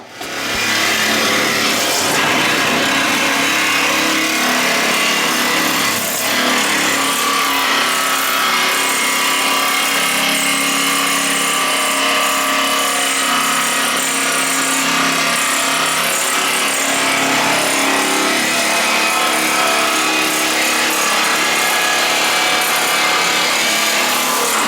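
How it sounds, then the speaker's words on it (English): A jigsaw saws out a Classic Mini wheel arch, a loud, continuous harsh buzz of reciprocating blade on sheet metal running nearly unbroken and close for the whole stretch. "We'll show you us cutting it out with the jigsaw."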